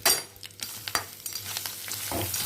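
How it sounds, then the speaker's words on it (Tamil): Crab pieces fry in hot oil for a crab pepper fry, crackling and sizzling steadily while a utensil stirs and knocks them around the pan several times. "இந்த நண்டை அதில் போட்ட வேண்டியதான். போட்டு நல்லா வறுக்க வேண்டியதான் ஃப்ரெண்ட்ஸ்."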